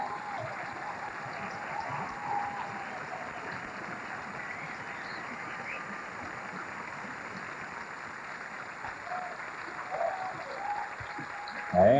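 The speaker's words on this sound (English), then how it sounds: "a nice round of applause for Darius and Yolanta" A ballroom dancing championship audience applauds a couple after their tango, a dense, steady wash of clapping heard from a distance for the whole stretch, swelling slightly at the end.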